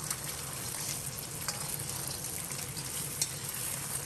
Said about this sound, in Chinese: 烧至冒烟以后放入打好的蛋液